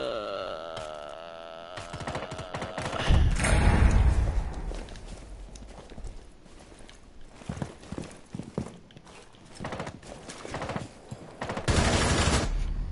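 Rapid bursts of gunfire in a first-person shooter video game, volleys of shots repeating over mixed footstep sounds, loud and close, with quieter stretches between flurries.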